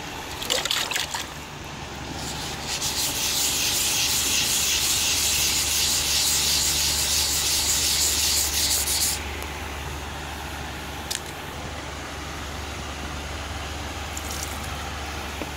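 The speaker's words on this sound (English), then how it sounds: "we'll wet sand it with a 400 grit sandpaper" Steady wet scraping and rubbing as 400-grit sandpaper is worked back and forth over damp Bondo body filler, with a brighter hiss for the first stretch and a low hum underneath.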